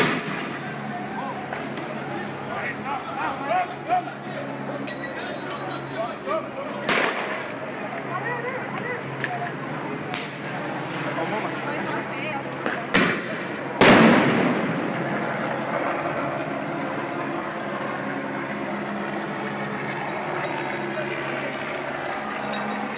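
Tear gas canisters launched during a street protest in Rio de Janeiro, with sharp booming launches near 7 and 14 seconds standing out over steady crowd noise and distant voices.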